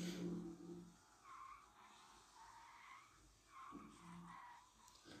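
A car skids with tire squeal in the video game Extreme Car Driving Simulator, a faint engine hum with two or three short sliding squeals rising and falling.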